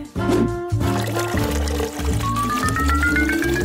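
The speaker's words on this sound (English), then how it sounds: "I think that baby will like it if I pour it in her favorite mug." Liquid poured into a mug in a kitchen: a continuous gurgling fill whose pitch climbs as the mug fills, with a musical backing running underneath.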